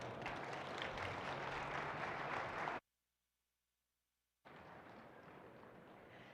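An audience claps after a presentation at a Young Farmers & Ranchers discussion meet: dense, steady applause that cuts out abruptly for a couple of seconds, then resumes just as full.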